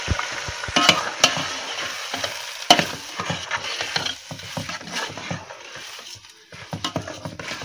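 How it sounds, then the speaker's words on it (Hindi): Rice goes into a pot of onions and ghee and is stirred, with repeated scraping and clattering over a light sizzle that comes in uneven bursts. "अब हम चावल ऐड कर रहे हैं।"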